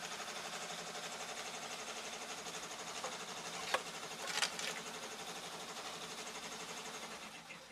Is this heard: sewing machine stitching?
yes